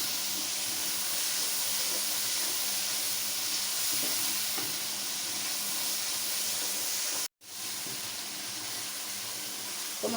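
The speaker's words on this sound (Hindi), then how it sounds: "मसाले को आपने अच्छा सा भूनना है" Masala roasts in oil for arvi curry, a loud continuous sizzle with occasional stirring scrapes, cut by a brief moment of silence partway before the frying hiss resumes.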